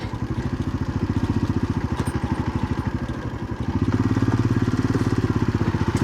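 A motorcycle rolls along slowly on a road trip through the Tenkasi hills toward Achankovil in Kerala, its engine thudding in a steady, rapid low pulse that swells slightly louder midway and holds close and continuous throughout.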